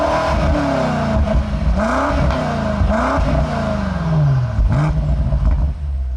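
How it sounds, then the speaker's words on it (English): A 2022 BMW M5 CS with its sport exhaust switched on revs repeatedly while stationary, loud close-up engine swells climbing and falling in several sharp blips with a deep exhaust note. "Let's take a listen to the sport exhaust on."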